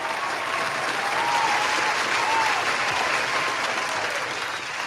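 Audience applause with some cheering, a sustained, fairly distant crowd roar of clapping that swells slightly midway and stays steady for several seconds.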